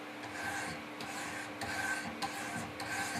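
A Benchmade Mini-Griptilian knife blade is worked back and forth on 400 grit stones in a Wicked Edge sharpener, producing a steady, fairly quiet rasping scrape that continues throughout with small pulses in intensity.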